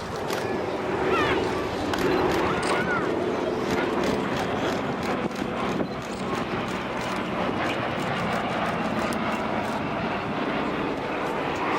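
A Douglas DC-3 Dakota wearing D-Day invasion stripes flies past at an air display, its piston engines a loud, steady drone that fills the whole stretch with little change.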